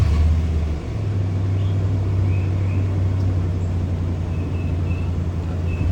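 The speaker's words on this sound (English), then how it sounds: "we're going to start the car up" A used car's engine turns over and settles into a steady, loud idle, a continuous low rumble that holds for several seconds with no talking over it.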